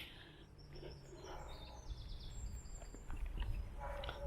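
Birdsong from an overgrown woodland cemetery in Sheffield, with scattered chirps and short trills at moderate distance over a soft background hum, no talking.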